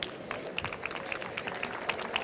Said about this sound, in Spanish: os pido un fuerte aplauso, por favor